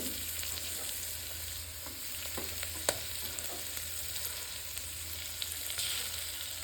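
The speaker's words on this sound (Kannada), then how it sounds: "ಈರುಳ್ಳಿ ಸ್ವಲ್ಪ ಚೆನ್ನಾಗಿ ಗೋಲ್ಡನ್ ಬ್ರೌನ್ ಆಗೋವರೆಗೂ ಹುರ್ಕೋಬೇಕಾಗತ್ತೆ." Sliced onions with ginger garlic paste frying in a pan for tomato bath, a steady broadband sizzle that stays even throughout, with a few faint clicks and stirring scrapes under it and no talk.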